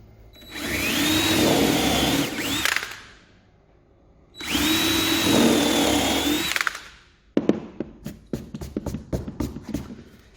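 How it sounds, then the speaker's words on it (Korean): A power drill bores two holes in wood for dowels, in two loud whining bursts of about two and a half seconds each, followed by a run of sharp tapping knocks. "구멍 두 개를 한번 더 내볼게요."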